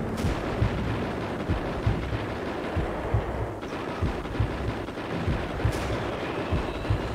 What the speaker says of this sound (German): Das war ein Sniper.